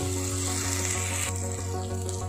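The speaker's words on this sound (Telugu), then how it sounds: "ఇప్పుడు ఇవన్నీ మనము కొంచెం పచ్చివాసన పోయే వరకు వేయించుకోవాలి" Slit green chillies and curry leaves fry in oil for mutton keema, a bright even sizzle close by over a steady low hum, easing slightly partway through, with no speech.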